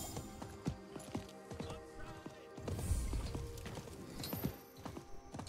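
Horse galloping in Diablo 4: rapid clip-clop hoofbeats that keep up a quick rhythm throughout, with a heavier thump midway and faint game ambience beneath.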